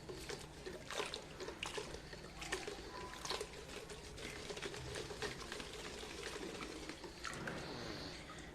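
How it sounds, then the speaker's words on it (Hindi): Plant roots of a variegated rubber plant swished gently in a container of water, soft sloshing and trickling with small repeated splashes, quiet and close. "आप हल्का सा इसे पानी में इस तरह से हिलाएं ताकि पानी के फोर्स से ही इसकी मिट्टी इसमें से धुल जाए"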